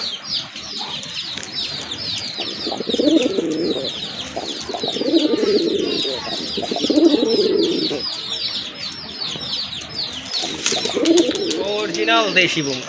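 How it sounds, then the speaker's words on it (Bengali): Deshi Bombay pigeons coo in low repeated bursts roughly every two seconds from a pigeon and chicken collection, with busy chirping birds throughout and a person talking over them. "একদম অরিজিনাল পিওর দেশি বোম্বাই কবুতর"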